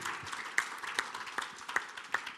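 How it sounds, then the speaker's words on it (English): A small church congregation claps in a slow, sparse rhythm at a Christian gathering, with about six distinct claps standing out over soft background murmur. "Can we clap to God?"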